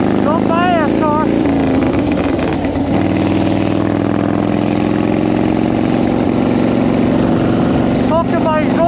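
A motorcycle exhaust idles in a loud, steady low rumble close by for the whole stretch, with brief voices at the start and end.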